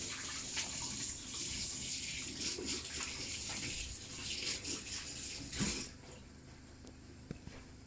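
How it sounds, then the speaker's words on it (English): Tap water gushes steadily into a kitchen sink during handwashing, a broad close hiss that dips and splashes before easing off near the end, with a few faint knocks afterward. "Just going to wash my hands."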